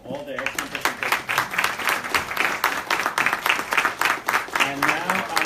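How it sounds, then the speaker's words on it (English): A conference audience claps warmly for a panel of presenters at a policy briefing on federal tax reform for Puerto Rico, with many hands in a lively rhythmic patter, a voice heard briefly near the start. "giving a warm applause for all the excellent presentations"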